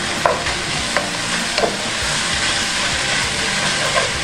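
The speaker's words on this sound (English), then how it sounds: "You mix that very well." Rice and beans for gallo pinto are stirred in a hot pan, a continuous sizzle and scraping stir with a few soft knocks of the utensil against the pan, close and steady.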